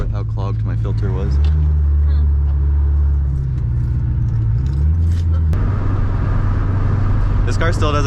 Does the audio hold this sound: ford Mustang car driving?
yes